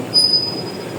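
A Paris Métro Line 14 train rumbles past with a thin high-pitched wheel squeal ringing out over the low, steady rolling noise.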